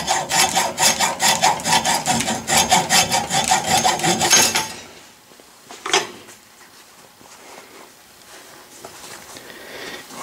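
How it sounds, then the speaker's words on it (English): Hand saw with a coarse blade cutting through soft lead, a close, loud rhythmic rasping of steady back-and-forth strokes for about four seconds, then stopping, followed by a single brief knock and quiet shop handling noises in a basement workshop. "You need to use a nice coarse blade when you cut lead."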